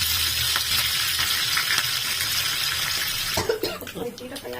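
Cumin and green chilies fry in hot oil as a tempering for paddu batter, giving a steady close sizzle that runs throughout, with a few sharper clatters and splutters near the end.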